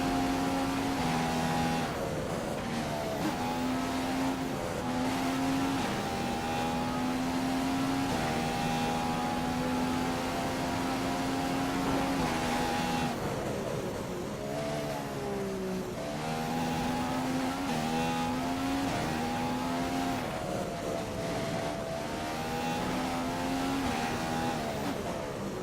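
Formula One car from F1 2015 screaming through a flying lap at the Australian circuit, its high engine note rising and falling steadily through gear changes and braking, loud and continuous with no talk.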